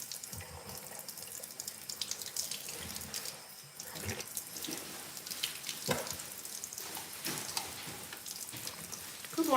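A water flosser sprays a steady hissing stream of water close by, continuing without a break for several seconds, with a sink-like splashing texture and no voices.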